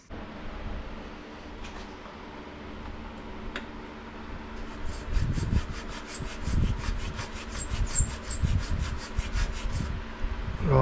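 Wire brushing or scraping of earth connections on a Rover Ranger ride-on lawn mower, a steady close rubbing rasp that grows louder and more vigorous in irregular strokes toward the end, with no talk.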